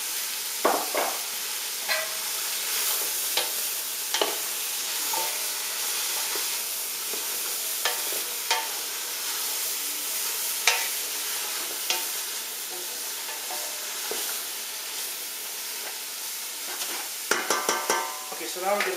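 Vegetables for a cream of vegetable soup sizzle and hiss steadily in oil in a pan, with scraping stirs and occasional clicks of the utensil throughout, close up and without talk.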